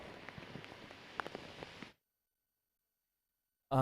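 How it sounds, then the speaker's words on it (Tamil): Heavy rain pours on Kamarajar Salai road in Chennai during a cyclone alert, a dense, steady patter with scattered drop clicks for about two seconds before cutting to silence, then a sudden loud burst at the very end. "சென்னை காமராஜர் சாலையில் கனமழையானது தொடர்ந்து பெய்து வருகிறது"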